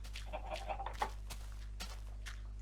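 Soft Minecraft chicken clucks come in a few short, quiet bursts over a low steady hum, with faint tapping in between.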